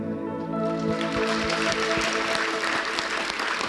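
A church congregation claps their hands in sustained, dense applause, the many sharp claps blending together over a steady bed of sound.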